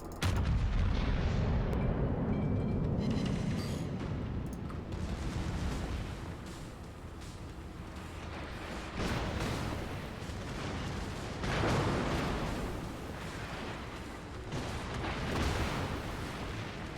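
World of Warships battleship main guns boom in a heavy sustained rumble, with deep salvos rolling out and renewed blasts every few seconds over a constant low battle drone, no talking.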